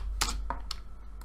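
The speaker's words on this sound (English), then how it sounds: "I need to type it, it'll be much faster." Typing on a computer keyboard: a few quick, close keystrokes in an uneven burst, quiet and isolated with no talk.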